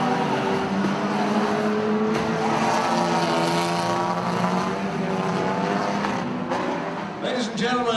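Unlimited banger racing cars on a dirt track at Coventry Stadium, a loud continuous roar of several engines revving and droning together, with an announcer's voice blending into the din.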